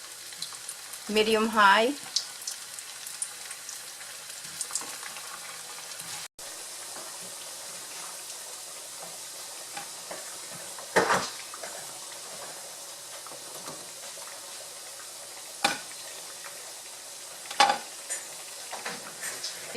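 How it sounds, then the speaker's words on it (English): Plantain frying in oil over medium-high heat, a steady close sizzle and hiss running throughout, with a few louder clatters and a short spoken phrase near the start. "we're going to fry the platano"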